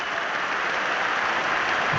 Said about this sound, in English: gets a warm round of applause for his efforts this afternoon